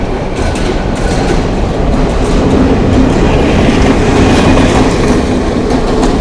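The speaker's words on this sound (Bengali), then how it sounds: "ট্রেনটা আসলো ঢাকা" A train from Joydebpur to Dhaka rumbles past close by, loud and continuous, its wheels clattering rhythmically over the rails with a dense roar.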